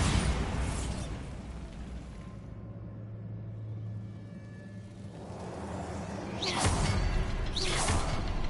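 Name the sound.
Bombarda explosion spell in a video game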